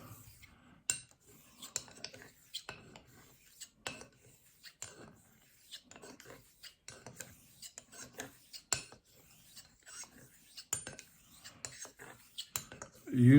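A Njord straight razor is stroked back and forth across a 5000 grit honing stone in a quick, even rhythm of soft scraping passes, close and fairly quiet, without talk.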